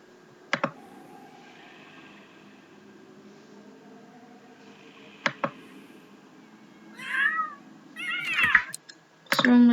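A cat in The Sims 3 game meows a few times toward the end, short close cries following scattered sharp clicks and keyboard-like taps, with a faint steady background hum.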